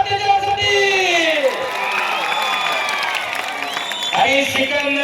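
A crowd at a wrestling final in Narayangaon cheers for the Maharashtra wrestler Sikandar Shaikh, with a sustained roar broken by rising whoops and shouts from many voices.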